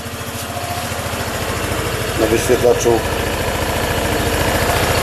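A new Barton X-Trail motorcycle engine idles on its first start, warming up with a steady, low, pulsing rumble throughout, while a person talks over it close by.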